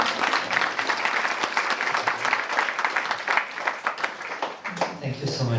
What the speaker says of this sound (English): Let's have a round of applause for the wonderful.